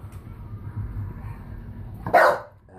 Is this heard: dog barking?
yes